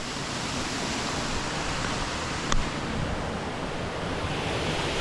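Water pours over a river weir at Stopes Mill near Hebden Bridge, a loud, steady broadband rush that stays constant and close with no talking.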